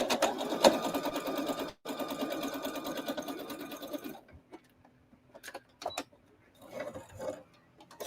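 Sewing machine stitching quilt blocks, a loud close rapid whirring hum that runs steadily, stops, restarts briefly, then gives way to a few scattered clicks and short bursts.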